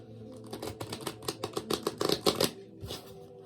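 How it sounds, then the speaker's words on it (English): A deck of tarot cards is riffle-shuffled up close: a quick run of crisp flicking clicks that speeds into a dense burst, then stops, with one last brief flutter after a short pause. "The cards ain't even shuffling together."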